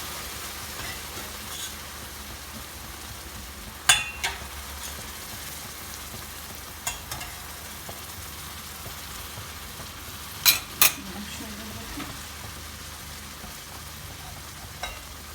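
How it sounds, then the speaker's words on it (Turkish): Semolina halva (irmik helvası) being stirred quickly in a pan, a soft continuous sizzle with a few sharp scrapes and clinks of the utensil against the pan at scattered moments. "Hızlı hızlı karıştırmaya devam ediyorum"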